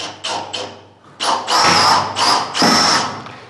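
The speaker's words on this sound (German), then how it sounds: "Und dann einfach hingehen und schrauben." Cordless drill driving Torx screws into a metal drywall profile, several short whirring bursts in quick succession, loud and close, with a faint low hum underneath.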